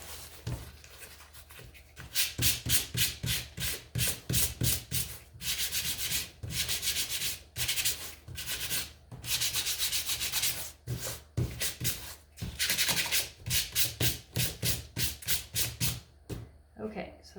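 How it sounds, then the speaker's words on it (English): Sandpaper rubbed back and forth over a wooden home sign, making a steady run of quick rasping strokes close to the listener, with brief pauses between sets. "And maybe come and sand this."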